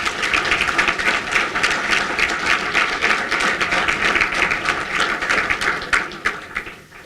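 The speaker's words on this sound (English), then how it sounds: "let's give them another round of applause, please" Applause for the class of 1989 at an ATSU all-campus meeting: a large audience claps in a dense, even roll that holds for several seconds and then thins toward the end.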